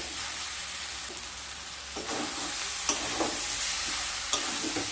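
Spices stir-fried in a pan sizzle softly and steadily, broken by a few sharp scrapes and clicks of a spoon against the pan.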